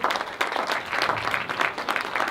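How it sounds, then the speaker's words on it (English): Audience at a women's excellence awards ceremony in Singapore clapping steadily, a soft, even patter of many hands heard at a moderate distance. "Please, crowd, please give an applause."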